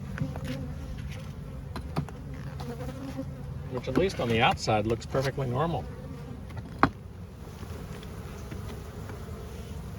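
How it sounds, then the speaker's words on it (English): Dense, continuous buzzing of many honey bees at an open hive fills the air up close, with a person speaking briefly in the middle and a sharp tap near the end. "Lots of bees."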